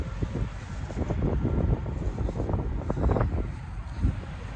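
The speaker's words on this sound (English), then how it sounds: "Sorry, it's really windy." Steady wind buffeting the microphone, a constant low rumble with gusty bursts throughout, fairly loud and close.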